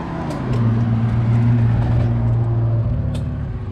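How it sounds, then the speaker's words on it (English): Cars drive past on a road, a loud nearby engine rumble that swells and stays steady for a few seconds before easing off, with no talking. "Gotta wait for these cars"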